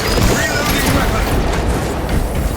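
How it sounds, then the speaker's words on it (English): Weapon reloading in the Space Marine 2 video game, a dense burst of clattering mechanical metal clicks and heavy clunks amid loud, continuous battle noise, with no clear gaps. "Reloading weapon."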